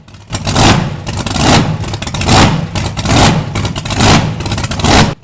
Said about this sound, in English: Big Block Chevy engine.